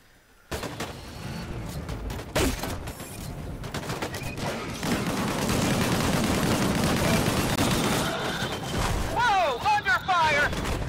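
Gunfire erupts in the video game Disintegration, bursts of rapid shots and booming impacts piling into a sustained barrage, with warbling tones near the end and a voice speaking over the din.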